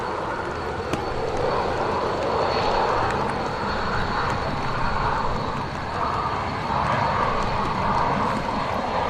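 TUI airliner landing at Manchester Airport in wet, windy weather, a steady, loud jet roar rising and falling slightly throughout with no voices.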